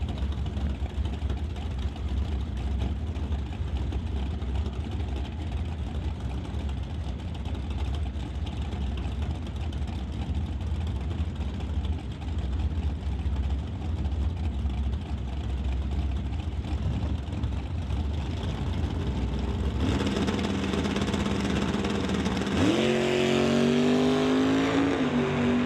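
Drag racing cars, a Dodge Dart and a Chevelle, idle and rumble steadily at the track. Late on, loud engine revs rise and sweep upward as the cars launch, with no talk.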